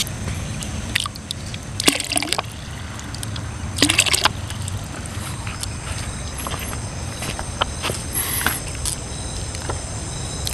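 Water poured from an Aqua bottle for soaking gourd seeds, a steady faint trickle with light sloshing and a few sharper clinks and knocks of handling, no talk.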